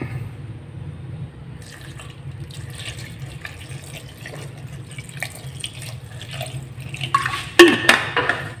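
Water runs steadily into a pot for several seconds, ending with a few clanks of metal cookware near the end.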